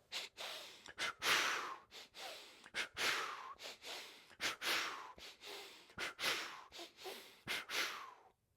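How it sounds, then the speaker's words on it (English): Rapid energizing breathing exercise: forceful in-and-out breaths through the nose and mouth, close and loud, repeating in a quick, slightly uneven rhythm with brief gaps between bursts. "we're going to take our first breath in and go"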